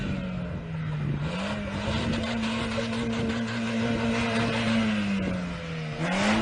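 A Honda car engine is held at high revs during an endurance test, giving a sustained droning hum whose pitch sags and recovers a few times.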